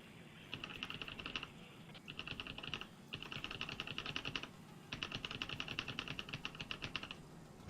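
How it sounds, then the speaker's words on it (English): Rapid computer keyboard typing comes in four bursts of dense, clicky keystrokes separated by short pauses, close and distinct with no voices. "I feel like no matter what, you can hear the keys"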